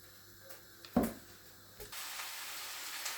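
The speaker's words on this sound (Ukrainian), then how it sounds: "Поки цибулька смажиться, таке все шкварчить" Onion frying in oil in a pan while cooking plov, a soft steady sizzle that rises and fills the second half, with a few brief knocks and clatters near the start.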